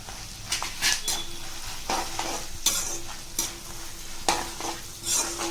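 Byadgi dry chillies and dry coconut frying in a pan, a close, steady sizzle punctuated by regular scraping stirs and metallic clinks of a spoon against the pan, without any talking.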